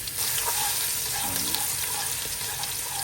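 Garlic is frying in a wok of reused oil that had fried chicken, giving a steady bright sizzle and hiss throughout, with a few faint scrapes.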